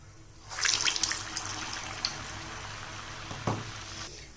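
Sweet urad dal donut vadai dropped into hot oil, with a burst of bubbling and crackling that settles into a steady sizzle and then fades.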